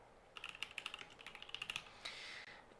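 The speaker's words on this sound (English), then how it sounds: "If I can type." Quiet, rapid clicking of computer keyboard keys in short bursts of typing with a brief pause, faint and close, no voices.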